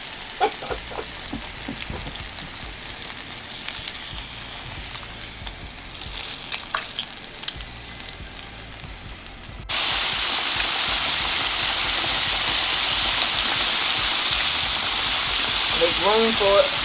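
Turkey chops fry in a large cast iron pan, a steady loud sizzle with stirring and faint voices early on, then a sudden jump to a brighter, fuller hiss for the second half.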